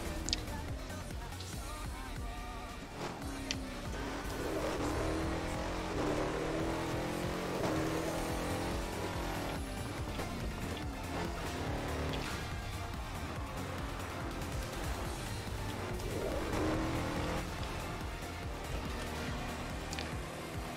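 Cars race in Burnout Paradise, their engines roaring and revving continuously and loudly throughout, with passing whooshes and no letup.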